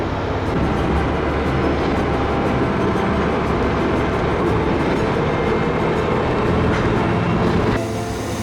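Rumble and rattle inside an empty JR train carriage running in Kyushu, Japan, a dense continuous roar with faint rhythmic clicking, close and steady throughout, easing slightly near the end.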